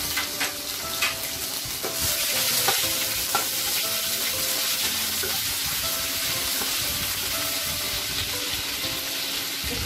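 Ginger garlic paste fries in hot oil for a poppy-almond hilsa dish, a continuous close sizzle with occasional spatula scrapes and stirring; no voices.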